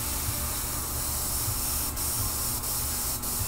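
An airbrush spraying paint on an old portrait gives a steady, close hiss of air and paint that runs almost unbroken, with a few faint dips as the trigger eases, and no voices.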